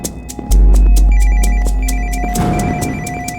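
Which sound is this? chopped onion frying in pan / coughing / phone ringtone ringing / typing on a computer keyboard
phone ringtone ringing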